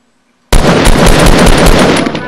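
Gunfire in the battle royale game Fortnite erupts abruptly after half a second of silence, a loud, dense, continuous burst of rapid automatic shots that carries on to the end without a break.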